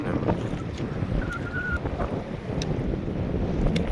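Steady wind noise blowing over a small fishing boat at sea, a continuous low rumble with faint water wash, loud and close throughout with no talking.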